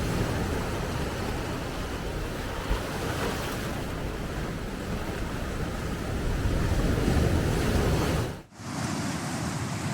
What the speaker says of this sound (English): if you can hear me above all these waves